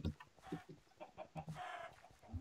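Chickens in the Minecraft video game give short, repeated clucks in quick succession, fairly quiet and alone with no talk.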